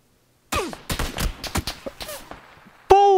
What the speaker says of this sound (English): He's trying to shoot at me